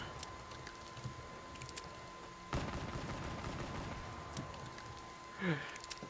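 Handgun gunfire in the Black Ops III Zombies game Shadows of Evil, heard as a single sharp shot partway through followed by a decaying rumble, with a brief burst of fainter activity near the end; no talking.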